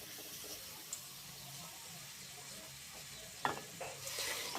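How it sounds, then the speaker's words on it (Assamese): Tomatoes cooked down with a little hot water are stirred in a pan, a quiet sizzle and bubbling running steadily, with a few scraping clinks of the spoon near the end. "এতিয়া অকণমান গৰম পানী দি বঢ়িয়াকৈ অলপ বিলাহীখিনি হেৰি কৰিছোঁ।"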